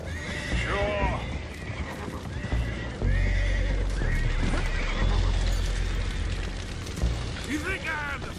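Horses whinny and neigh in the game Red Dead Redemption 2, their calls rising over steady hoof clops and a dense, rumbling action soundscape with occasional deep booms.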